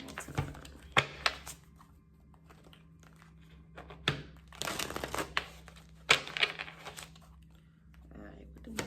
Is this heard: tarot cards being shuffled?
yes